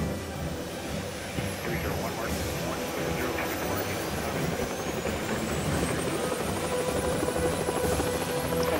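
A helicopter engine in the game Helicopter Simulator spins up into a continuous whirring drone with a rising turbine whine, loud and steady for several seconds.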